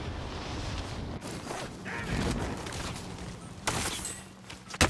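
Gunfire in Call of Duty: Warzone, scattered shots and bursts at moderate distance with a few sharper cracks toward the end, plus faint mechanical clatter in between.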